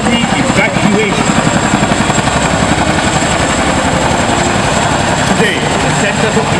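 A Chinook twin-rotor helicopter at an air force open house produces a loud, close, continuous rhythmic rotor thump with a heavy engine whine, steady for the whole stretch.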